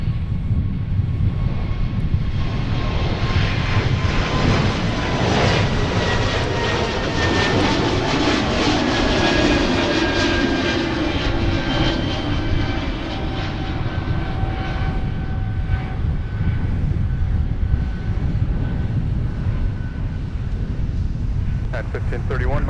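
A jet airliner takes off from runway 30 right at MSP airport, a continuous loud roar with rising and falling whine tones that builds and then slowly recedes, under faint radio chatter.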